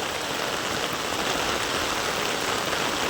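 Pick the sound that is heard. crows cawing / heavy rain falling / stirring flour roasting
heavy rain falling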